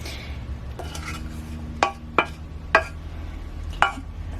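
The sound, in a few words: dishing out oats from non-stick pan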